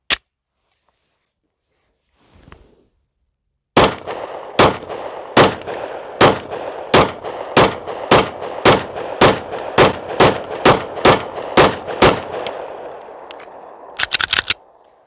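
A Glock 43X pistol fires a full magazine outdoors, about a dozen loud, sharp shots at a steady pace after a quiet start, then a quick cluster of fainter clicks and rattles at the end.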